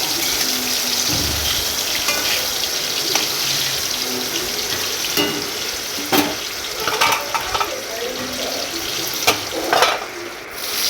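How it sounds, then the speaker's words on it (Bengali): Slices of brinjal fry in a pan of oil in a village kitchen during rain. The sizzle is steady and close, broken by a few sharp clicks and scrapes from stirring, and no one talks. "বেগুন ভাজাগুলো এক ফিট হয়ে গেছে আমি আর একটু তুলতে দেবো"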